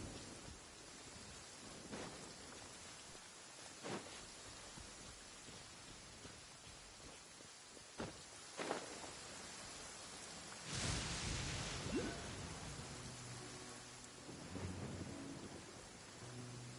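Steady rain hisses throughout a stormy scene in the video game Genshin Impact, broken by several sharp thunder cracks, with a heavier rumbling downpour swelling near the end.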